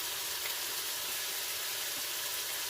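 Onions sizzling in a restaurant pan with onion powder and ginger, a dense continuous hiss of frying that holds steady and fairly close throughout.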